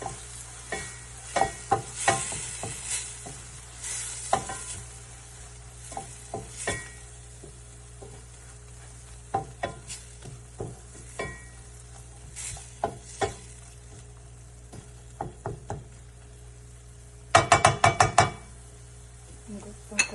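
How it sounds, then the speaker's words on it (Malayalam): Tomato curry for appam sizzling in a pan as a spoon stirs it, giving intermittent scrapes and knocks against the metal over a steady fry, with a quick burst of rapid clinks near the end; close and fairly loud. "നന്നായിട്ടൊന്ന് ഇളക്കി കൊടുക്കാം."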